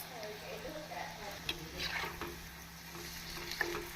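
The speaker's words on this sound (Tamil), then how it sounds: "எண்ணெய் காய்ந்து விட்டது, நாம் போண்டாவை போட்டு விடலாம்." Potato bondas fry in hot oil with a soft, low sizzle and a few light clinks of a utensil, quiet and close.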